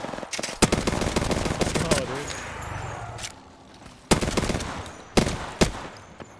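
Gunfire in Apex Legends during a competitive match: sharp single shots and short rapid bursts, some close and loud and others further off, while teammates talk over the fighting.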